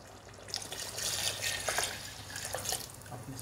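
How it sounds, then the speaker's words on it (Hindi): A jug of water is poured into a pot of browned beef paya (trotters), a faint, steady trickle and splash lasting a few seconds with no talking. "अब यहाँ पर इसमें मैं शामिल करूँगी 1 जग भर के पानी डालेंगे हम"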